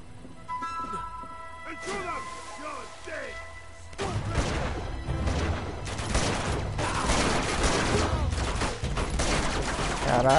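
Gunfire crackles in dense, loud volleys during Uncharted 2 gameplay on a PS4, following a quieter stretch, while someone talks over the shooting.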